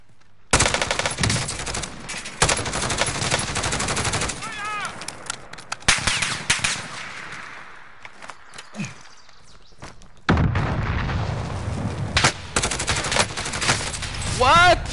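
Video game gunfire in a Call of Duty gulag fight, rapid automatic bursts and fusillades in loud clusters separated by quieter gaps, with occasional thuds and footsteps and voices in the background.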